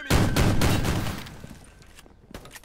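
Video-game gunfire punching through a wall in a Chernobyl power-plant raid, a loud rapid burst of shots up front that thins to a few scattered cracks.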